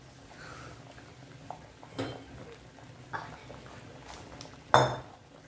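A pressure cooker and pots are set down on a kitchen stove while vegetable biryani cooks, giving a few separate metallic clanks and knocks, the last one loudest, over a quiet background.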